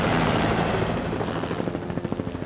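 A helicopter's rotor thumps steadily, loud and close at first, with the rhythmic chopping becoming more distinct as it continues.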